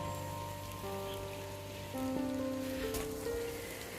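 Light drizzle falls in the hills, a soft, steady patter of raindrops on surfaces that thickens slightly partway through, with no voices.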